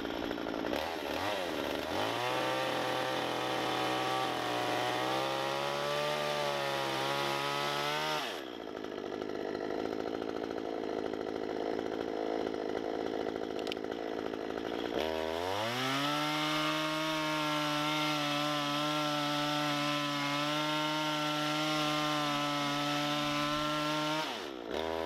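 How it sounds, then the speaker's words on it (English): A chainsaw cuts a floor joist pocket into a log for a dovetail log cabin. The engine runs loud and close, dips to a rough lower drone midway, then revs back up to a steady high whine. "I can adjust the back of the saw either up or down to make sure I'm coming straight in"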